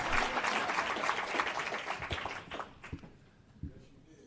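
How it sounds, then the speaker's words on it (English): Applause at an Illinois Democratic Party breakfast during the DNC for Georgia, with clapping and crowd voices at moderate distance that thin out and die away into a few scattered claps midway. "you ought to give a round of applause to Georgia"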